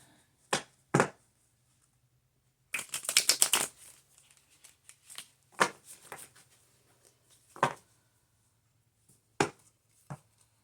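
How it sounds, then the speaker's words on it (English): A quick riffle of tarot cards being shuffled, followed by several sharp, isolated taps and snaps of cards against a surface in a quiet room. "let's shuffle them up a little bit"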